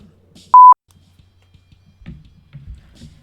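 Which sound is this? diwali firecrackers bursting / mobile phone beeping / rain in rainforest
mobile phone beeping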